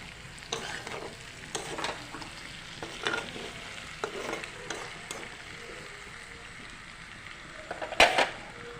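Tomatoes sizzling in a pan with cumin, garam masala, coriander powder and meat masala, with a steady quiet fry and several sharp stirring scrapes spaced through the clip, nearby and fairly soft.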